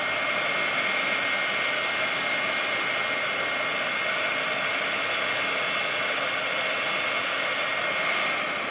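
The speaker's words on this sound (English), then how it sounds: "because I had the heating tool directly on like almost touching the canvas" A heating tool blows steadily across melted crayon on a canvas, giving an even, loud airy whoosh like a hair dryer that runs unbroken throughout with no talk.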